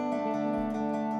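A short, steady run of plucked acoustic guitar notes with a sustained tone, the intro riff of a song played alone at moderate volume.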